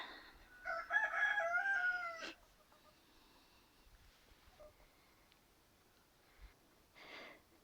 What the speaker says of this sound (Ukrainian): Наша наша ручна курочка.